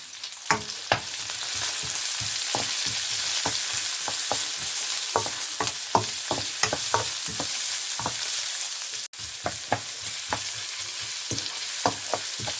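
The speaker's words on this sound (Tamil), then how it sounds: "ஹீட்டை குறைச்சே வச்சு வதக்கி கொள்ளுங்க" Onions and curry leaves sauté over low heat in a pan for paneer pilau, a constant close sizzle punctuated by regular scraping stirs and taps of a spoon on the pan, with no voices.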